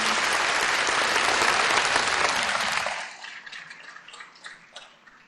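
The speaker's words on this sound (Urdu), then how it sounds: "ان کے لیے بھی بھرپور تالیاں اگر آپ کریں گے تو بہت مہربانی" Audience applause at a Pakistani Independence Day speech event, a dense, loud wash of clapping for about three seconds that then thins into scattered claps and fades away.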